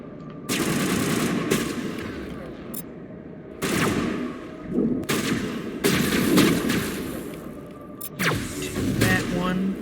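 Gunfire in Mass Effect Legendary Edition: repeated loud bursts of rapid automatic fire in several volleys with short gaps, close and dominant, with some speech mixed in.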